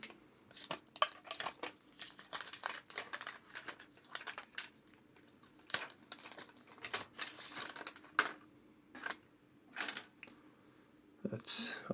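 Paper wrapping from a JBL Buds Wave earbud box crinkles and tears in irregular, sharp bursts close by, with scattered pauses and no talk.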